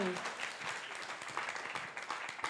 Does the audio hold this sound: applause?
yes